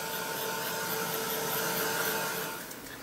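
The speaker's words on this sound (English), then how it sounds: "I'll bring in my heat gun, I'll get all these dried off" A heat gun blows steadily at close range while drying paint on a craft project, a continuous loud hissing whir with a faint whine that eases slightly near the end.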